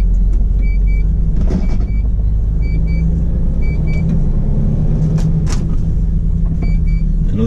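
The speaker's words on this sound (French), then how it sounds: "Un autre camion de mon ancienne boutique." A truck rolls past close by as a loud, steady low rumble that fills the whole stretch, with short high beeps repeating at intervals over it.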